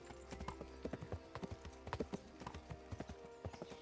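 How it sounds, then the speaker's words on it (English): Horse hooves clip-clop in a steady, even walking rhythm in the video game Kingdom Come: Deliverance, quiet and continuous with no talking. "Oh, there's my horse."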